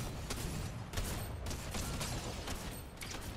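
Rapid shotgun fire in the Fortnite video game: a quick, even string of sharp shots about three per second, sounding fairly faint and thin throughout.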